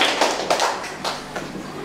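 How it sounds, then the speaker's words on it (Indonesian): A congregation claps for the King during a church service, with a few scattered, uneven claps in a reverberant room and no talk. "Tepuk tangan untuk Raja dari segala hal"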